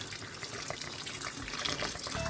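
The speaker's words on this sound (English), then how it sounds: "So at this stage, what I'm going to do is to pour in some water." Hot water is poured into a pot of cooking ogbono soup, a faint, continuous splashing trickle heard close with nothing else over it.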